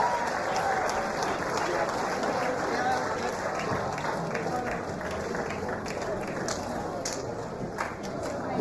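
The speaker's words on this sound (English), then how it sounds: "Lachlan Patterson, give him a round of applause, please." Applause from a crowd at a fight event, steady and fairly dense for the whole stretch, with a noisy hall ambience and voices mixed underneath.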